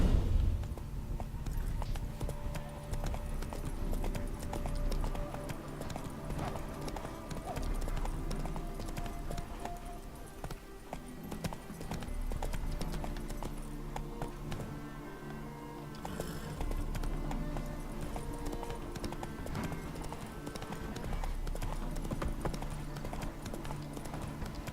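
Horse hooves clip-clop at a steady, continuous trot in The Witcher 3 video game, with occasional snorts and game music and ambience layered underneath.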